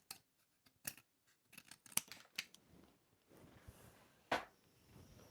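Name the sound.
scissors cutting paper envelope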